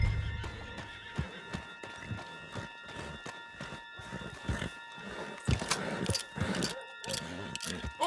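In a Western video game, a horse neighs and snorts while hooves clip-clop at a walk and then pick up pace, with shifting movement sounds and light rustle throughout.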